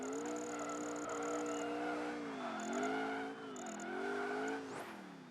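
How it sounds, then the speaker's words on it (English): Racing car drifting around bends in Project Gotham Racing 3, a steady engine drone rising and falling through each curve with intermittent tire squeal, loud and continuous, ending in a rising whoosh. "I might as well drift around here, to be honest"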